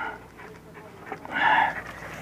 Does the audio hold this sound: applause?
no